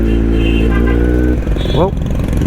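A Kawasaki Z800 motorcycle with a loud exhaust rumbles and revs in traffic, close and steady, while a rider talks over it.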